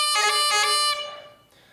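A bagpipe plays a single C lemluath embellishment, a short burst of quick grace notes resolving onto a sustained pipe tone that fades out within under two seconds.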